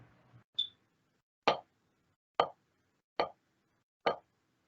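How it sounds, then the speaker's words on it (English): Four sharp single taps of a drumstick, evenly spaced about a second apart, crisp and close, after a brief faint murmur at the start. "just tap the right stick as singles."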